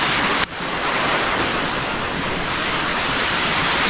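Waterfall beneath a railway track bridge at Nanu Oya near Nuwara Eliya, Sri Lanka, a steady dense rushing roar of falling water, loud and constant, with a brief bump near the start.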